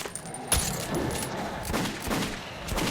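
Gunfire in the post-apocalyptic Moscow shooter Metro 2033, with a sharp shot and then a dense, rumbling run of rapid bursts that carries through the whole stretch.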